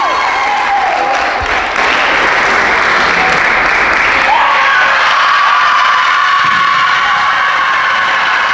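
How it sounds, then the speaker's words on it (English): Crowd applause and cheering at a women's college volleyball championship trophy presentation in a gym, a loud continuous roar of clapping with whoops and shouts filling the whole stretch. "Let's have one more round of applause for the 2019 LEC Women's Volleyball Champion, UMass Boston."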